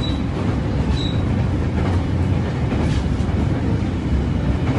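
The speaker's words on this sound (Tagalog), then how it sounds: "Nakasakay na kami ng tren" A steady, loud rumble of a moving train in Fukuoka, Japan, heard from on board, fills the whole stretch, with faint rail noise and no talking.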